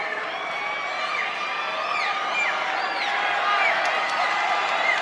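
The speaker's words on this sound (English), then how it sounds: "You hear the crowd." Crowd noise in a high school basketball gym during a game, a steady murmur of many voices with squeaking sneakers on the court, continuous and moderately loud throughout.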